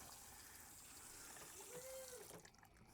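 Hot water runs steadily from a tap at a cabin, a faint continuous gushing hiss that cuts off near the end.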